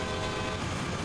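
Steady, loud locomotive horn blast in the Train Sim World 2 railroad simulator on the Sand Patch Grade route, a continuous tone lasting about a second with no pauses.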